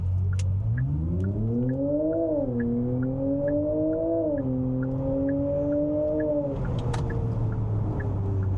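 A 490 hp dual-motor electric car accelerating hard from 0 to 100, a steady rising electric whine with harmonics climbing in pitch under road and wind rumble, loud and continuous, then settling as speed levels off.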